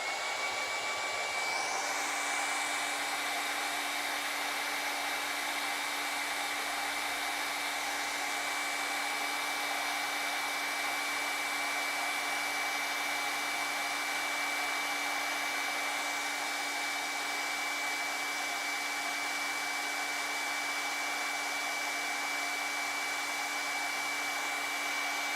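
A hair dryer blows steadily over a Derwent Inktense painting, a continuous close whirring hiss with a fixed tone that runs unbroken for the whole stretch, with no voices over it.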